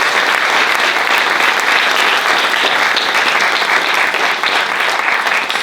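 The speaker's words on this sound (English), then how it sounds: "So another round of applause." Conference audience at a domestic abuse event gives another round of applause, loud and close, a thick continuous roar of clapping holding steady throughout.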